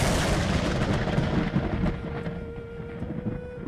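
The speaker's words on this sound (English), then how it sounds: "a distant rumble of thunder rolled across the sky" Thunder rolls as a long, dense rumble, strongest at first and then easing slightly while it keeps going throughout, with no voices.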